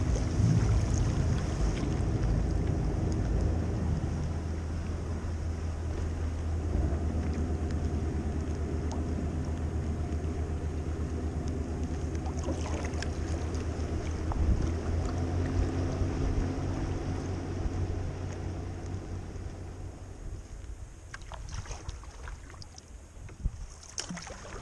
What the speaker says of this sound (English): There's a steamship there, one of the Ullswater steamers.